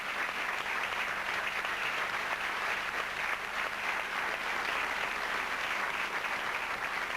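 Steady applause from an audience at a Champs-Élysées performance, a dense even wash of clapping that carries on without a break and with no talking over it.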